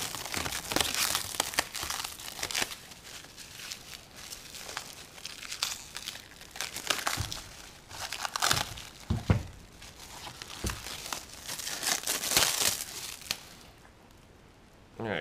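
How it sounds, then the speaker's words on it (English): A package holding a steel bar being unwrapped up close: loud, continuous crinkling and crumpling of wrapping, with bursts of tearing, running for about fourteen seconds before it goes quiet. "So here's the steel that Tom sent me. Get this unwrapped here and take a look at it."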